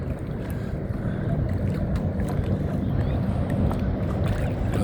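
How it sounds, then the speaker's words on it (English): Jet boats run on Lake Wakatipu in New Zealand, a steady, broad engine rumble mixed with wind buffeting the microphone. "Got jet boats doing their thing."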